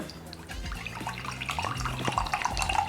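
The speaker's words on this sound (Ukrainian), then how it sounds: "Так, добре, наливаємо." Pineapple juice is poured into a glass, a steady liquid trickle and gurgle close by that grows slightly fuller as the glass fills, with no speech.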